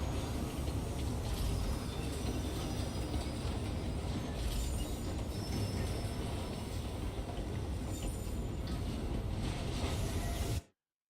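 A train rolls steadily through the video game Railgrade, a continuous rumbling clatter with faint wheel squeals, loud and unbroken until it cuts off abruptly at the end.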